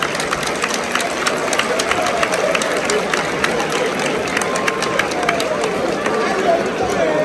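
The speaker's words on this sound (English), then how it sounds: "we have to do a round of warm applause for the two boxers" Crowd applause and cheering for two boxers after an IBF Continental Africa super lightweight title fight, a loud, dense wash of clapping that holds steady throughout.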